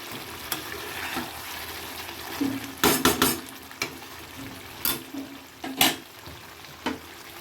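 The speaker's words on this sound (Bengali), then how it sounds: "এবার একটু ভালো করে নাড়াচাড়া দিয়ে নেব। আরও ভালো করে কষাবো।" Chicken curry is stirred in a pan while it fries, with soft background sizzle broken by several sharp scraping and clattering strokes of a spoon against the pan, each short and close.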